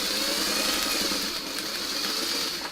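A sewing machine stitches fabric while a small crown piece is sewn for a cross-and-crown quilt block, giving a steady continuous mechanical hum that holds for the whole stretch with no talking over it.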